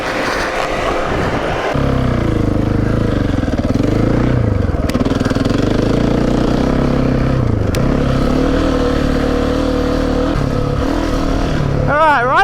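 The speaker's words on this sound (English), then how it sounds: "Alright, riding a 701." Loud, steady drone of a KTM 701 enduro motorcycle riding through desert sand, with the engine note rising and falling while the rider rides on.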